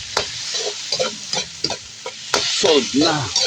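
Chopped onions and tomatoes sauté in a pan for pork trotters with mung beans and bitter melon leaves, a steady frying sizzle broken by repeated scraping stirs of a spoon, with brief talk over it.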